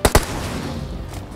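Two sharp gunshots in the video game PUBG Mobile in quick succession right at the start, loud and close, followed by a steady noisy background.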